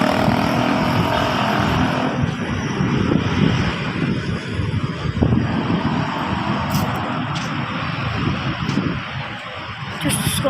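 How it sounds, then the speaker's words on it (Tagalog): A new LRT light rail train passing through Aseana City in the Philippines, a broad sustained rumble and roar that holds steady for about ten seconds, with a voice talking over it. "Bagong LRT."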